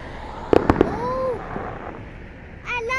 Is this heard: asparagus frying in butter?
no